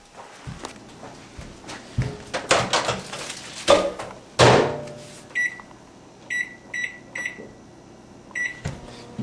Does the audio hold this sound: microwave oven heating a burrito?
yes